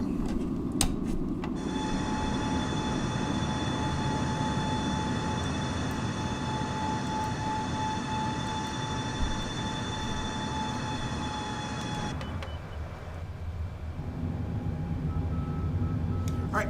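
Boeing 747-8F in Microsoft Flight Simulator 2020 climbing just after gear retraction, a steady loud engine roar with a sustained whine running for about ten seconds before easing, no talk over it.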